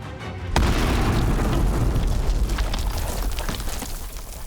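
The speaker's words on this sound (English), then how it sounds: "The explosion was thunderous and rattled Christian's balloon" Audiobook explosion sound effect of an aircraft detonating in space, a sudden loud boom that hits after a short quiet moment and rumbles on as a sustained, roaring blast.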